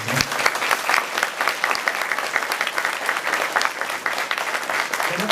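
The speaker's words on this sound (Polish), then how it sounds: "Oklaski dla artystów." Audience applause for the performers at an outdoor operetta concert in Czapury, Poland, dense and fairly close, a steady round of clapping lasting a few seconds.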